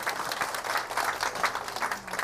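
A lecture-hall audience breaks into dense, sustained clapping that holds steady for a couple of seconds, with no clear voices rising above the applause.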